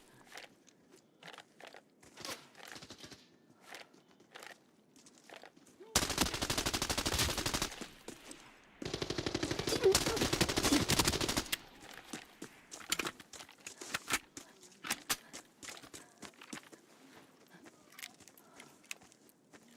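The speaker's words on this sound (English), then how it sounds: "he's shooting me" Video game gunfire from a solo match: two sustained bursts of rapid automatic fire dominate the middle, surrounded by scattered single shots, footsteps and clicky in-game noises.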